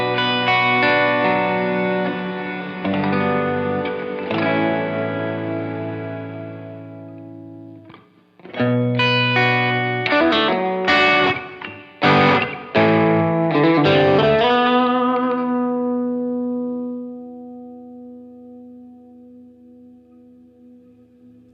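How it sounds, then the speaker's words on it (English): Electric guitar played through an ALABS Cetus pedal on its church setting, a huge cathedral reverb at full decay: strummed chords and picked notes swell and wash together, then ring out in a long, loud tail that slowly fades to silence. "church is a large cathedral sound. So that's full decay"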